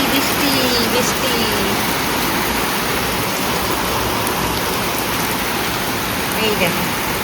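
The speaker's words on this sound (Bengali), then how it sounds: "দেখো রাত্রেবেলা কিরকম বৃষ্টি শুরু হয়েছে" Heavy night rain pouring steadily, a loud dense hiss that holds without a break, with faint voices barely under it.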